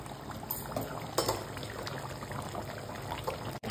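Water poured into a pot of chicken curry as it cooks, a steady close splashing pour lasting several seconds with one brief louder slosh partway through.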